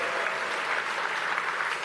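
An audience at a main-stage game expo presentation claps in a brief, steady burst of applause from a sizeable crowd, dense and even throughout.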